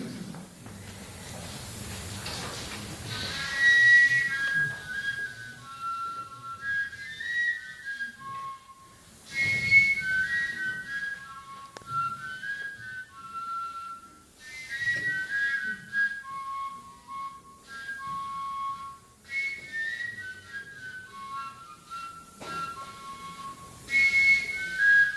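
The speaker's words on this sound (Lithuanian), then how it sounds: "pagaminęs tokią švilpą iš Čiurlionio muziejaus pagal Valatkos kopiją." A quiet replica folk whistle copied from one in the Čiurlionis museum, blown in soft repeated phrases of breathy high tones with short pauses between, close and faint with no talking.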